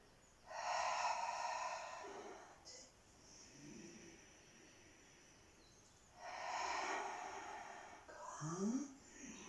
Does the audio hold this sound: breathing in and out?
yes